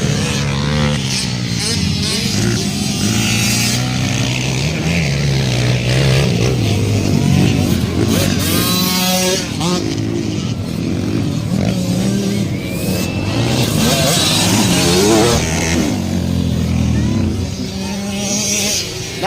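Racing motorcycles rev and scream past one after another in a loud, shifting engine whine, while an excited commentator talks continuously over the noise.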